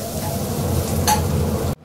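Ingredients for tomato gojju fry in a pan, with a continuous close sizzle and a few stirring scrapes that cut off abruptly at the end.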